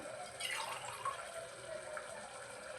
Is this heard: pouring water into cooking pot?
yes